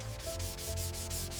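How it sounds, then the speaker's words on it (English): Fine sanding of a bamboo headphone speaker shell in a factory, a continuous close rhythmic rasping rub with regular back-and-forth strokes about every fifth of a second. "A close view of the bamboo speaker shell surface after fine sanding"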